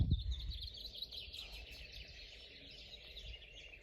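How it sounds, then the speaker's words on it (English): Faint birdsong drifts along a quiet Azores walking trail in winter, with soft, continuous chirping and twittering heard at a distance over low outdoor ambience. "And the birds."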